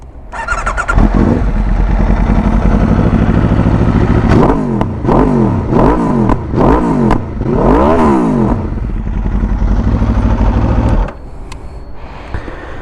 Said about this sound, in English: Let's also fire up the RSV4. I'm sure you guys are eager to hear what this sounds like.